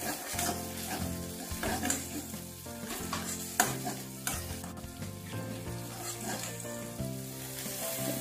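Spices sizzle in hot oil with a pinch of asafoetida powder while cooking chhana dalna, a loud continuous frying hiss broken by scraping stir strokes and light pan clatter.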